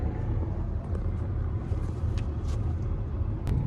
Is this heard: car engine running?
yes